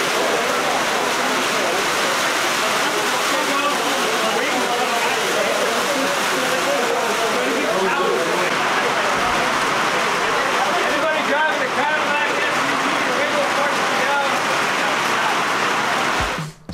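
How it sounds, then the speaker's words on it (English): Heavy rain pours steadily at an outdoor rimfire rifle range during a precision shooting match, with wind gusting through it, a dense continuous hiss that stays loud throughout with talk mixed underneath. "You can hear the rain."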